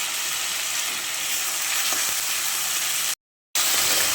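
Chopped tomato frying with ground onion, garlic, ginger and green chili paste in hot oil, a steady loud sizzle and hiss close up, continuing after a brief cut to silence.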